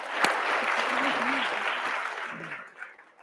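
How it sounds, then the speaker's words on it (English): An audience gives a warm, sustained round of applause for a guest named Rob at a speaking event, steady and fairly close, then tapering off near the end. "Big round of applause for Rob."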